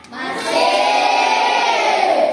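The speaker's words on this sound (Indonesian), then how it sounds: "kita kasih aplaus untuk kelompok 1" Classroom group applauding a student presentation team, a burst of clapping that swells quickly after a soft start and holds steady, mixed with some cheering voices.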